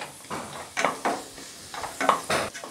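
Onions and green chili frying in a pan for a fish curry, heard as a series of separate bursts of scraping and sizzling as a spatula stirs at uneven intervals, close and without talk.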